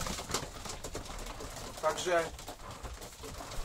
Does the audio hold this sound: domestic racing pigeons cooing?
yes